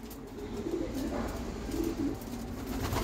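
Homing pigeons, males and females, coo softly in a loft. Low murmuring coos repeat a few times over a steady noisy background with no talk.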